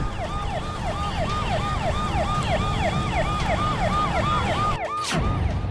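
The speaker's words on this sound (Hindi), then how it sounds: "कई एम्बुलेंस घंटों तक इस जाम में फंसी रही।" Ambulance siren wailing steadily in a rain-soaked traffic jam on a Chennai road, repeated rising and falling tones over a constant rumble of engines and traffic, loud and nearby, briefly cut by a sharp burst near the end.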